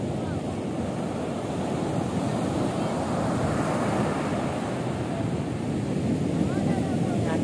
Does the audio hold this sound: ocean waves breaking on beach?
yes